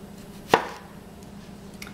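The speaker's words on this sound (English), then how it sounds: "So just cut down through it like that, and I think I have one more slice to go here." A knife cuts down through a green tomato, one sharp close chop onto the board followed by a faint second tap, otherwise quiet.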